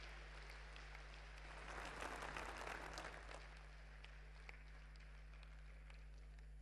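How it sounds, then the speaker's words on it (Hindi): A crowd at a government foundation-laying ceremony in Haryana gives a short burst of applause, swelling for about two seconds and then fading into a steady low hum of the venue's sound system. "आप भी जी तालियां बजा करके हरियाणा की"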